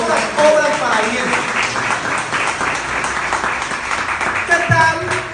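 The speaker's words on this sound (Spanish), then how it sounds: "Démosle ese aplauso a Jesús." Applause rises from a church congregation during a sermon. Many hands clap steadily for several seconds, loud and close, with voices mixed in.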